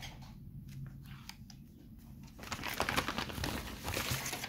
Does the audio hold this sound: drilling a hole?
no